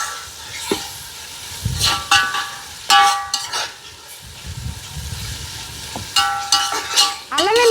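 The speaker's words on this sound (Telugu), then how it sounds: "అల్లం వెల్లుల్లి పేస్ట్ పచ్చివాసన పోయేంత వరకు ఇలాగా నూనెలోనే ఉడకబెడతాను." Ginger garlic paste fries in hot oil for a crab pulao while a spoon stirs it, giving a continuous close sizzle broken by repeated scraping strokes.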